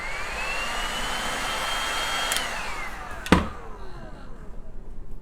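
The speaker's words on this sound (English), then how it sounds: "I'm gonna blast it again with my heat gun." A heat gun blows hot air over wood molding on a painted dresser, a steady close whooshing roar that drops off after a sharp knock partway through, leaving a quieter hiss.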